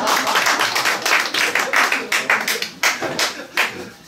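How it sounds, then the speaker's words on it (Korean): Rhythmic clapping from a small cafe concert audience, a steady beat of sharp hand claps in time, close and clear with no talk over it. "어쩜 이렇게 박수를 맛깔나게 치세요?"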